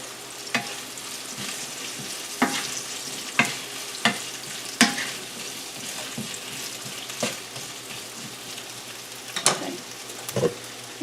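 Noodles and cabbage sizzle steadily in a hot pan on a stovetop, with a constant frying hiss broken by occasional sharp pops and clinks of stirring.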